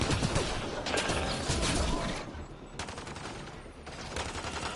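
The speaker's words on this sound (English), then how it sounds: "Where's the guy shooting me from the side?" Rapid gunfire and bursts from a Mass Effect Andromeda firefight, dense and loud throughout, with sharp volleys and mechanical clatter layered over constant battle noise.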